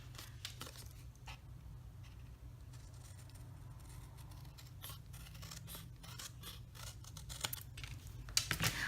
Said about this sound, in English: find the score line and snip off the flaps on both sides